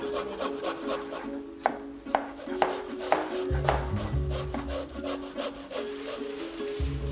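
Carrots being scraped by hand in a busy professional kitchen: a steady run of rough scraping strokes with sharp knocks and clatter, under a constant low hum and rumble of kitchen machinery.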